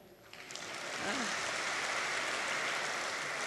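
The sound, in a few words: audience applause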